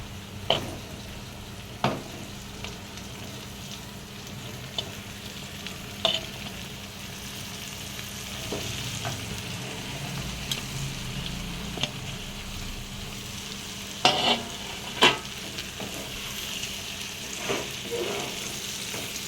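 Capsicum frying in a pan gives a steady, close sizzle for a long stretch, broken by periodic scrapes and knocks of a spatula as it is stirred.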